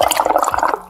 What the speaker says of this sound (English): blow bubbles in the water.